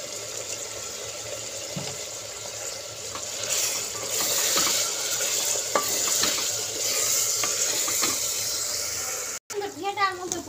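Potato curry with turmeric powder is stirred in a sizzling frying pan, with a continuous frying hiss and repeated scraping strokes of the spoon up close.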